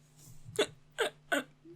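Three sharp, close hiccups spaced evenly about a second apart, each a short voiced gulp over a quiet room hum, followed by a faint fourth onset.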